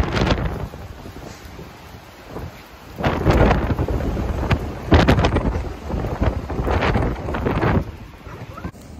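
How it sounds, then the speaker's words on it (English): Gusty wind buffets the microphone in roaring bursts that rise and fall, with a low rumble throughout, outdoors on a farm. "So that is the wind."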